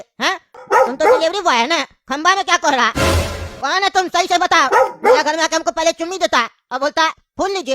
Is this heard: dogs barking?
yes